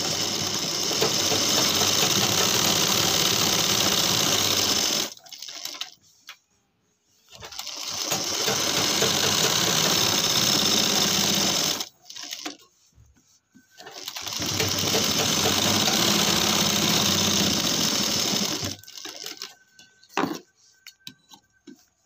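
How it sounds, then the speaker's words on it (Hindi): Sewing machine stitching a pocket seam on a pant belt, running in three long steady bursts of rapid whirring stitches, each several seconds, separated by short pauses with small handling noises. "अब इसको हम इस तरीके से यहाँ पर सिलाई लगाएंगे, इसको ऊपर से 1/2 इंच छोड़ने के बाद।"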